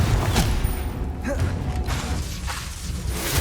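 A Confringo fire spell blasts out in Hogwarts Legacy with a whooshing burst and crackling impact amid combat noise, with brief rumbling thuds following.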